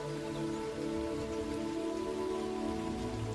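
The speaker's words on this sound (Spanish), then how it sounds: "Alzas la vista y observas la cortina que forma la lluvia" Steady rain falls in an even, soft wash of continuous patter, faint and uninterrupted, with no voices or other sounds over it.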